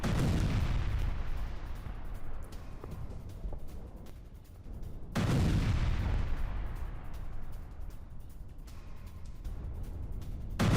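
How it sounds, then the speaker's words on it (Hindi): Two deep, rumbling blasts a few seconds apart from an explosives-laden military truck, each a sudden loud boom that trails off into a long, roaring decay. "विस्फोटक से भरे सैन्य ट्रक पर हुआ ब्लास्ट"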